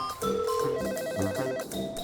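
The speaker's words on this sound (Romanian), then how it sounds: "Ia să-mi sun eu pe bunul meu prieten, Mario." An outgoing phone call rings while a car drives through traffic, a steady electronic ringback tone pulsing over engine and road noise, moderately loud with no speech.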